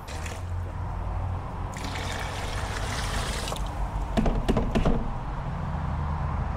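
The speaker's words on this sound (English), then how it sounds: "So I'm gonna get some water and I'm gonna mix it up some more." Water runs into a one-gallon container holding undissolved pool shock and is then shaken to mix it. It makes a steady pouring and sloshing sound close by, with a few short knocks and clunks partway through.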